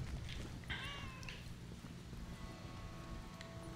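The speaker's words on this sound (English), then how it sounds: "Oh, they have cats." Cats meow in a video game, Lake Shipping Delivery Packages, with two short mews early on amid soft rain-like ambience and a low background hum.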